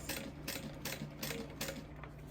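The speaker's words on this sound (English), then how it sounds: "Nice and slow in my curves, making sure my lining piece stays under my needle." Sewing machine stitching a leather sling with its lining on a curve, running in slow bursts with a steady motor hum under rhythmic needle clacks, close and quiet.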